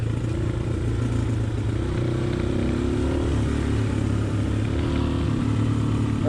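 A Honda XLR125R motorcycle engine drones steadily and loudly nearby, its pitch rising and falling slightly as it rides along, with no talking.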